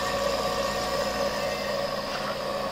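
An Edwards RV3 two-stage rotary vacuum pump runs with its gas ballast open, giving a steady, even mechanical hum and whir, close and moderately quiet, unbroken for its short span.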